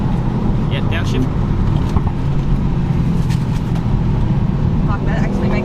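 A Subaru WRX STI driven hard on a winding mountain touge road, its engine a loud, continuous roar inside the cabin with steady low rumble throughout.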